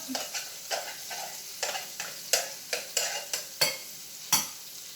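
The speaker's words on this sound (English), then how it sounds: "Just sauteing them up right now. Stirring them around." Finely chopped onions sauté in a pan, a soft sizzle broken by a dozen sharp scrapes and clacks of a utensil stirring them in an irregular rhythm, close and fairly loud.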